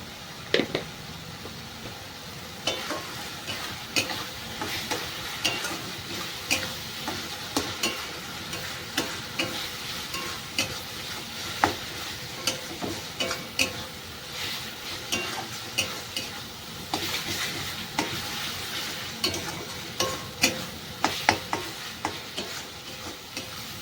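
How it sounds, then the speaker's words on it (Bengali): Spice masala with turmeric powder fries in oil while being stirred, giving a continuous sizzle dotted with steady spoon scrapes and taps throughout, close up with no speech. "মশলাটা খুব ভালো কষানো হয়ে গেছে আর মশলাটা থেকে কিন্তু তেল ছেড়ে দিয়েছে"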